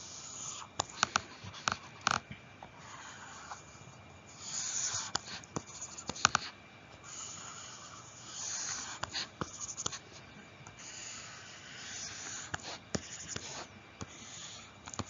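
A pen scratches across paper while a tangent function graph is drawn, making steady close scraping strokes with short pauses and taps throughout, with no talking.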